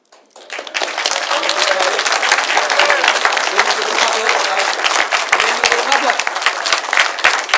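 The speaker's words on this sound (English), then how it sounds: "Please refrain from clapping. That is affecting the microphones and the speakers in here" An audience in a council chamber breaks into loud, dense applause that starts abruptly and holds steady for several seconds, with crowd voices mixed in.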